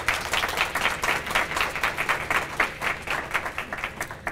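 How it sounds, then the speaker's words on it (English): Sustained applause from an awards ceremony audience celebrating city beautification award winners, a dense steady patter of many hands clapping throughout with no voices over it. "Please give these winners a round of applause."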